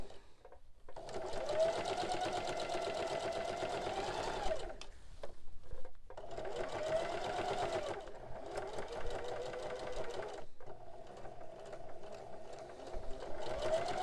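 A sewing machine runs a top stitch on a fabric soup bowl cozy, humming in long steady bursts with short pauses between runs, close and fairly quiet.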